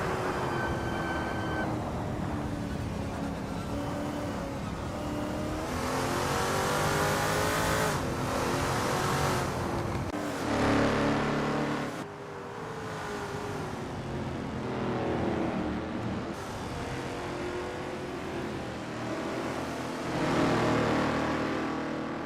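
Lola T70 MkII Spyder race cars in a racing game lap the Kyalami circuit, their engines revving loudly and continuously, rising and falling through gear changes and corners, with occasional tire squeal.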